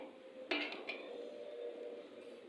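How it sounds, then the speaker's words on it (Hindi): Browned semolina being transferred from the pan into a pot in a home kitchen, with a sharp metallic clank of a utensil against cookware followed by a few lighter knocks and a faint background hum. "तो अब मैं इसको निकाल लूँगी बर्तन में।"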